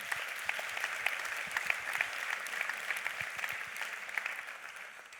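An audience at an evening speaker event claps steadily, a dense wash of applause that holds for several seconds before easing slightly.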